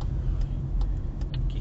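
Car cruising on a road on Continental UltraContact tires, a low steady rumble of tire and road noise from inside the cabin with faint light ticks, no talk.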